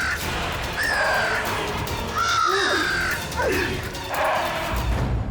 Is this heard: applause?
no